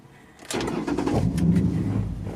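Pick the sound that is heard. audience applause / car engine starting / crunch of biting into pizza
car engine starting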